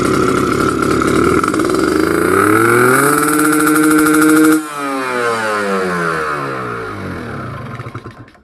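A two-stroke motorcycle engine revs loud and close while its carburetor needle and pilot jet are being tuned, its pitch rising and holding high, then dropping sharply and winding down through falling revs, with no talking.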